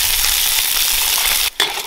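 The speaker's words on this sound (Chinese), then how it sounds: "把五花肉倒进来煸炒一下" Pork belly being stir-fried in a hot wok with oil for a braised pork and tofu skin dish gives a loud, steady, close sizzle with a brief drop near the end.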